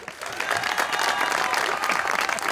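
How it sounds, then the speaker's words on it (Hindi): Audience applause for a singer at a live Pakistani television music show, a dense, steady wash of many hands clapping that holds loud throughout without any voices over it. "इसके लिए तालियां"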